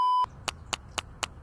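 Short electronic beeps from a phone being texted in an animated cartoon: a longer steady tone, then four evenly spaced bright bleeps repeating at a brisk rhythm, close and clear with no talking.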